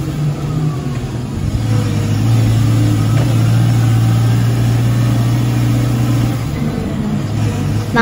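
Hitachi ZW100 snow-removal wheel loader reversing, its diesel engine droning steadily and loudly at close range with a sustained low hum and slight rising strain, no voices.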